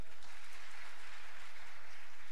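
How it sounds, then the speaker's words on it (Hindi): An audience at a Hindi kavi sammelan poetry gathering claps steadily in a dense, even wash of applause, fairly faint and distant, with no speech over it. "बजा लीजिए, तालियां बजा लीजिए एक बार।"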